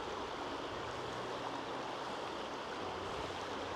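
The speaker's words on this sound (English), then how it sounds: "So this is the river crossing" Water rushing steadily at a Highland river crossing on a hiking trail, a broad continuous wash of flowing river noise, close and loud, unbroken for the whole stretch.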